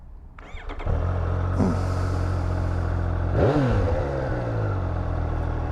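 A 2022 Triumph Street Triple RS motorcycle engine starts up, settles into a steady loud idle, then gets two quick throttle blips that rise and fall in pitch.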